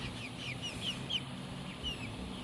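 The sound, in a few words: chickens clucking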